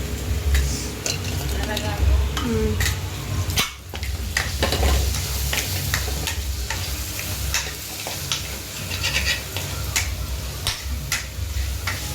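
Crab frying in a tomato masala in a pan, a busy close sizzle with frequent scraping and clinking stirs against the pot, plus some faint background voices.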